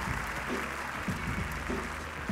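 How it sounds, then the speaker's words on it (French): Audience applauding at a breakdance battle, a Break The Floor 2018 quarter-final between b-boy crews, with dense, sustained clapping from a large crowd and faint music or voices underneath. "mesdames et messieurs, on les applaudit bien fort."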